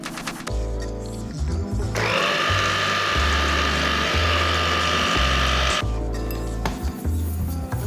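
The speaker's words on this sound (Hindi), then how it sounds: "अब ना इसे ग्राइंडर कर लेंगे।" An electric kitchen grinder pulverizing bread slices with the crusts trimmed off, a loud harsh motor whir for about four seconds between quieter rattling clatter before and after, close up and alone.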